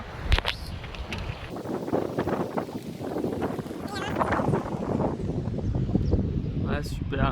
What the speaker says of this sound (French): Un petit peu de vent